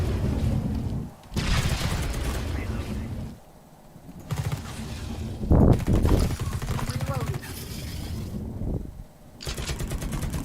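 Explosives detonating in The Red Solstice: booming blasts and rattling bursts that cut out and resume in sections, with a sharp loud hit near the middle, while someone talks over parts of it.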